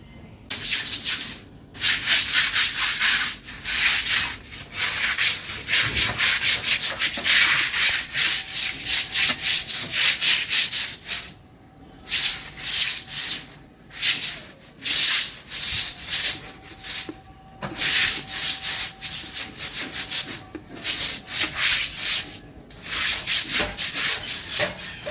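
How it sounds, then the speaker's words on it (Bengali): A broom scrubs bleaching powder into mossy stairs in steady bursts of coarse, close rasping strokes, broken by a few short pauses, with no voices. "ব্লিচিং পাউডার ঘষে দিয়েছি। এখন ঝাড়ু দিয়ে একটু বাড়ি দিয়ে ধুয়ে দেব জল দিয়ে এই জায়গাটা"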